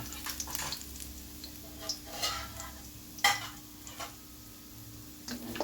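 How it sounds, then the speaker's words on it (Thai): Garlic sizzles quietly in a hot wok while a utensil stirs and scrapes against the metal in short, irregular strokes, cooking pad see ew with tofu. "ใส่กระเทียมไปผัดเลยค่ะ"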